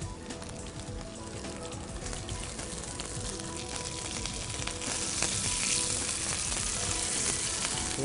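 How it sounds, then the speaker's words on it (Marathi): Rice and potato cutlets pan frying, a steady close sizzle that swells slightly louder partway through, with no voices. "हे असे आपले कटलेट फ्राय झालेले आहेत पॅनमध्ये"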